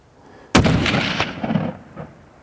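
A single loud rifle shot cracks during a New Mexico bull elk hunt, followed by a long rolling echo that fades over about two seconds outdoors.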